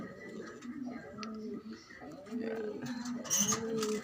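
Pigeons coo nearby in low, throaty repeated calls, mixed with light ticking sounds while a person talks over them.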